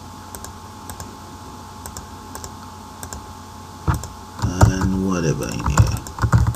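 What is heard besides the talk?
typing on a computer keyboard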